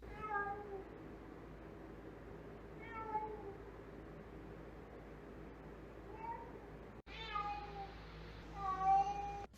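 A cat meows repeatedly indoors, about four separate rising calls spaced a couple of seconds apart, near and moderately loud over a quiet background.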